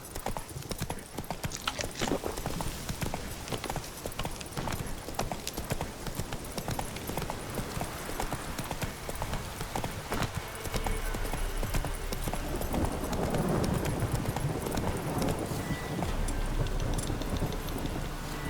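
Roach the horse gallops in The Witcher 3, a fast continuous clip-clop of hooves that runs steadily throughout, with wind and movement noise underneath.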